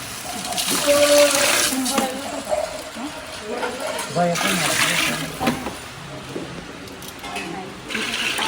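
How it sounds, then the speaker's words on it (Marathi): Water poured into a pan for cooking Maggi noodles, a splashing, trickling pour rising and falling in bursts while a person talks over it. "एक जीव झाल्यानंतर आता आपण याच्यात पाणी ऍड करणार आहोत."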